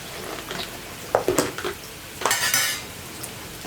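A utensil stirs crushed chili in a pan over a low flame, producing a few scraping clinks and knocks against the metal over a faint background hiss.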